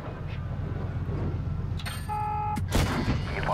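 A heavy tank cannon shot lands on a WZ tank in World of Tanks Blitz, a loud booming blast over a constant engine rumble, followed by a ringing hit chime.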